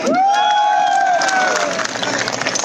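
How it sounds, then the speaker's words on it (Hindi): A large crowd at an outdoor political rally in Ambala cheers and claps loudly and continuously, with voices shouting over the applause at close range. "ठोको ताली।"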